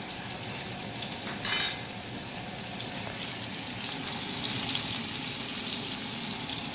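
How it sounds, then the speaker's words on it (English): Mushrooms sautéing in a hot pan in leftover oil from salmon: a steady, hissing sizzle with one brief louder burst of spattering, and no talk over it. "We're going to saute those mushrooms up in that little leftover oil."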